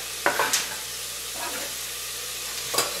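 Chopped onion and garlic soften in a hot pan with a steady low sizzle, broken by a few close stirring scrapes near the start and end.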